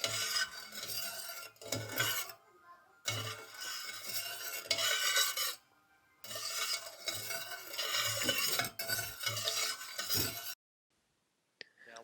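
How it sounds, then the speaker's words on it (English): Sugar being stirred into cooled tea for kombucha, a spoon scraping and clinking steadily in bursts against the container with short pauses between, close and fairly clear, with no one talking. "When that's cooled down, let's add the sugar. Give it a good stir,"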